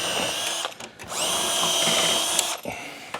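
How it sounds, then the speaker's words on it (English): A power drill bores holes for Salice Progressa undermount drawer slides, running in two steady high-pitched whirring bursts close to the mic, broken by a short pause and a few handling clicks. "we just drill out that one hole there and one in the back"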